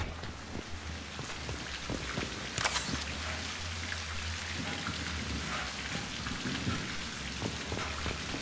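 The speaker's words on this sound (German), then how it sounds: "Überall regnet's, wir werden nass." Steady rain falls in the video game Mass Effect 2, a continuous close wash of patter and drips with a brief louder splash burst partway through and low rumbling underneath.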